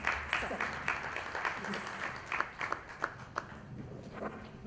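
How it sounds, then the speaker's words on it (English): Audience applause at a summit: a scattered round of clapping with distinct individual claps, moderately loud and continuous for several seconds, mixed with crowd murmur and some talking. "Ladies and gentlemen, a huge round of applause."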